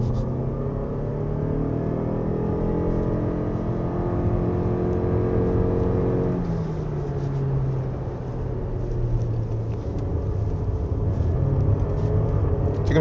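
A 2024 Lexus RX450h+ hybrid SUV accelerates hard along a winding road, its engine drone climbing steadily in pitch, dropping briefly midway, then building again under constant road rumble.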